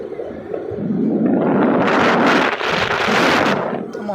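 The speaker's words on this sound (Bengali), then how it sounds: "বাতাসে অনেকটা বাতাস পাওয়া যেত এদিকে" Loud, steady wind buffeting the microphone while riding a motorbike on a road near Patenga sea beach, a rushing roar that builds and holds throughout with no voices.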